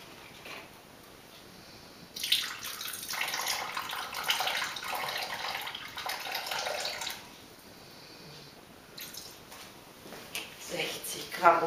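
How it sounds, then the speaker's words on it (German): Orange juice is poured into a Thermomix TM31 while making currywurst sauce, a liquid splashing and trickling for several seconds, fading, then returning briefly, with a voice in the background. "Dann kommt rein Orangensaft."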